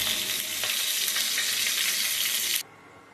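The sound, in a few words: frying rohu fish heads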